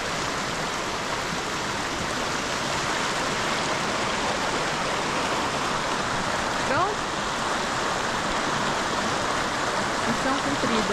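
A mountain river in Colorado flows as a loud, constant rush of water, steady and close throughout, with a faint brief voice partway through.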